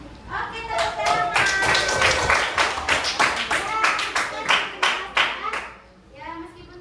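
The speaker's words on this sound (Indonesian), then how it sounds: "Oke, tepuk tangan." A group of children claps in a classroom, a run of sharp, close hand claps that are roughly rhythmic but uneven, with young voices chattering underneath before the clapping fades out.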